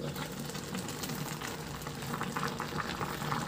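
Mung beans, jackfruit and pork hock boil together in a pot, making a faint, continuous bubbling simmer with soft irregular pops, steady throughout and with no voices.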